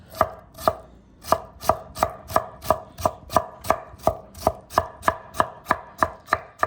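A knife cuts potatoes lengthwise into thin strips on a board, fifteen or so sharp, evenly timed chops sounding close and loud, with no talking.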